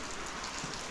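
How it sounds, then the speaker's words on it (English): Rain falling on wet cobblestones, a soft, steady patter of drops spread evenly through a brief moment, faint and without voices. "Wow, what a different scene in the rain"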